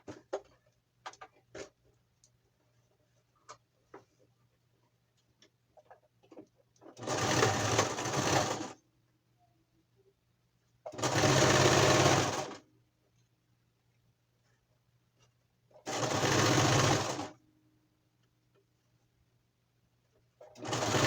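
Sewing machine stitching the binding onto a homemade face mask built with a home A/C filter, three loud, steady whirring runs of about two seconds each, close by, separated by quiet gaps with faint handling noises.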